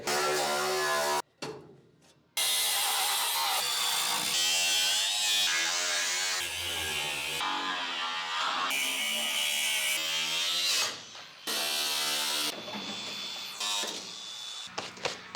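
Sheet metal being cut on the quarter panel of a 1968 Camaro, a loud, steady high-pitched buzzing cut that runs almost continuously, broken by a couple of short pauses and shifting in pitch as the tool works.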